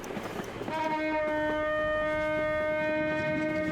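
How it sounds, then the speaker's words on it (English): A sustained trumpet note played by trumpeters riding a passing train rings out after a brief noisy start, holding a steady bright tone with strong overtones over the rumble of the moving train. "The note played by the travelling trumpeters."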